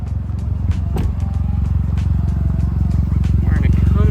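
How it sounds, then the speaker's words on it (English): Idling 1.5-litre engine of a 2019-2023 Chevy Malibu, a steady low rumble throughout with a faint metallic tick or two on top, close and continuous during transmission fluid service. "the engine must be running during this whole process"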